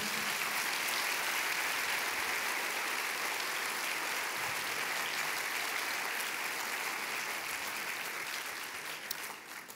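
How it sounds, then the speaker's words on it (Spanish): A church congregation gives loud, sustained applause for the Lord, a dense continuous wash of clapping that holds steady for nearly ten seconds before thinning slightly at the end. "Dale un aplauso fuerte al Señor."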